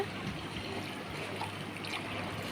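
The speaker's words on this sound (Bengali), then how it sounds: "যে পানি দিচ্ছি আমার পরিমাণ মতো পানি দিয়ে দিচ্ছি" Water poured into a cooking pot of spiced potatoes and eggs, a continuous close splashing trickle with a steady, even level for its short length.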